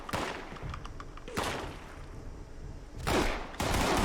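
Heavy automatic gunfire in the Fallout 76 video game, arriving as dense, loud bursts with brief lulls, the longest volley near the start and two harsher, louder bursts closing it out, with no voices.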